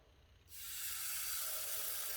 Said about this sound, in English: I'm going to spray the inside with a nonstick spray.